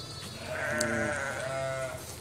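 Goats at a camel and goat farm in Saudi Arabia give a long, wavering bleat that breaks into a second cry, set against steady outdoor noise and a low background rumble.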